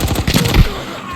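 Gunfire in the mobile shooter Arena Breakout Mobile, a quick cluster of rapid shots near a meeting point, sharp and fairly loud at first and then tailing off over about a second, with some background noise underneath.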